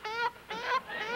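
A person imitates a chicken with three drawn-out, nasal clucking calls in quick succession, fairly close and clear.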